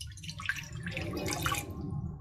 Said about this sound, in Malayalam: അതിലേക്ക് ഞാൻ 1 കപ്പ് വെള്ളമാണ് ആദ്യം ഒഴിക്കുന്നത്.